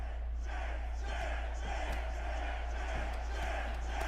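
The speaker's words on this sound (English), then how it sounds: "Crowd getting behind Wei Li here." A steady, distant arena crowd roars and cheers throughout a UFC video game fight, a continuous low wash of voices with occasional sharper swells.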